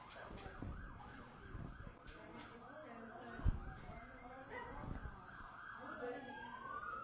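Emergency vehicle sirens wail faintly from outside, a distant rising tone drifting over low traffic rumble and room noise.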